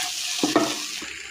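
A pan of prawn fry sizzles steadily and close by, with a couple of brief stirring scrapes in the middle.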